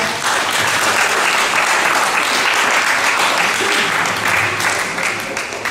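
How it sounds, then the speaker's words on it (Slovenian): An audience claps steadily and fairly loudly at the close of a sports event, sustained applause filling the whole stretch with only faint voices mixed in. "En aplavz"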